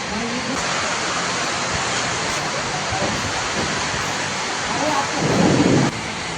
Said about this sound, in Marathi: एवढं जोरात गारा पडतायत ना